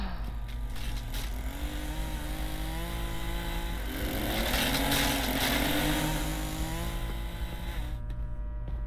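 A chainsaw runs continuously in the Backrooms horror game, its buzzing engine droning at a steady pitch, swelling louder midway before cutting off abruptly near the end.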